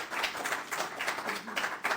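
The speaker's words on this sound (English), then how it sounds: "So a big round of applause to everyone who participated." A church congregation claps for the members who took part in a demonstration: a steady group applause of even, dense hand claps at moderate volume, fairly close, with no talking over it.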